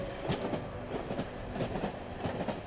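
A train in the horror video game Cry of Fear rolls along the rails with a steady low rumble and a rhythmic clickety-clack of wheels over joints, loud and continuous throughout with no voices.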